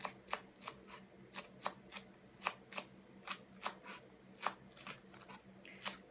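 Green onions finely chopped with a knife on a cutting board for miso soup, a steady series of crisp, close knife strikes in a fairly regular rhythm, with no talking.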